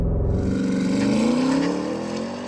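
Porsche Cayenne Turbo GT with eight-speed automatic and all-wheel drive launches hard, its engine roaring loud and close as the pitch climbs steadily through the run.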